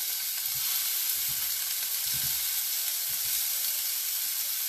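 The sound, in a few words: meat and vegetables sizzling in a hot pan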